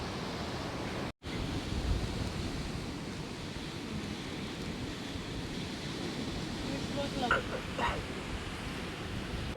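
Surf rolls steadily onto a beach near Mangalore in monsoon season, a continuous broad wash of waves mixed with wind buffeting the microphone, with a brief dropout early on and a few faint higher sounds near the end.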